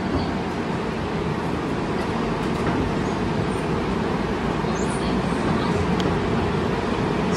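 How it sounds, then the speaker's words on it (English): Seoul's AREX airport express train at an underground platform gives a continuous, loud rolling rumble and hiss filling the enclosed station, steady throughout with no clear speech. "So this is underground station platform for airport train."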